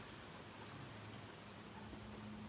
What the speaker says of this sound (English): No, I think it's just a light shower by the look at it.